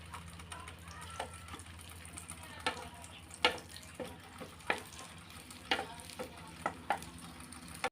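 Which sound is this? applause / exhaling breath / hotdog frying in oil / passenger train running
hotdog frying in oil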